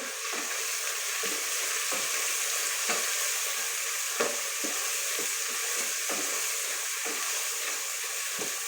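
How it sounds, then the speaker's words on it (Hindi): Spices fry with onions in a pan for a home-style aloo bhindi dish, giving a dense, even sizzle throughout with soft rhythmic scrapes of stirring at roughly one-second intervals. "सारे मसाले डाल के हल्का सा इनको भून लेंगे।"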